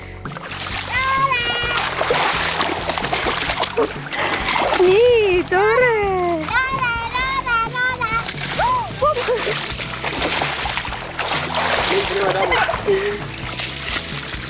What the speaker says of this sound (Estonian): Kuidas sa teed jalaga plärtsu?